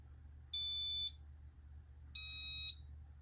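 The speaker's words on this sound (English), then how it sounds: "And they go through 2 beeps." A Casablanca Inteli-Touch ceiling fan control gives two clear electronic beeps, each about half a second long and separated by a short pause, over a low steady hum.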